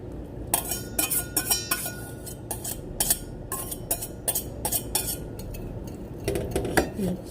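Butter is stirred into muffin batter in a bowl, a utensil clinking and scraping against the sides in quick, irregular strokes, close and clear, with a short pause midway before the mixing resumes.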